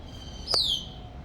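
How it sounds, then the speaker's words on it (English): Outdoor birds near a cotton plant give a single sharp, high chirp that sweeps downward, standing out briefly above a faint steady background hiss. "Anyways, here's the birds."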